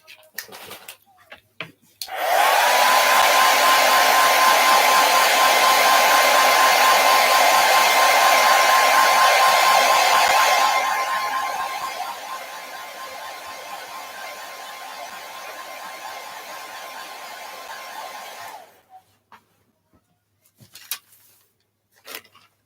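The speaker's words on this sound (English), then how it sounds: "I'm going to grab my hair dryer and dry this up real quick" A hair dryer blows steadily on a Valentine burlap pocket craft, loud and continuous with a faint whine, then dropping to a lower, softer setting for several seconds before switching off.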